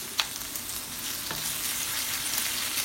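Chopped onions sautéing in hot oil for sizzling chilli chicken, giving a steady, close frying sizzle throughout with a brief stir or clink near the start.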